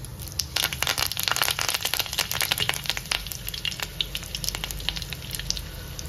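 Mustard seeds, cumin and curry leaves crackle and sizzle in hot oil in a kadhai, with dense, continuous spitting and popping close by and no voices.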